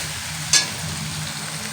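Mutton sizzles in oil in a pan while being stirred, a soft, steady frying hiss with one brief sharp scrape or clink of the spoon near the middle.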